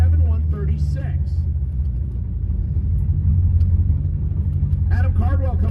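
A Ford Mustang races down a drag strip, its engine a steady, loud low rumble that fills the whole stretch, with a commentator's voice over it at the start and end.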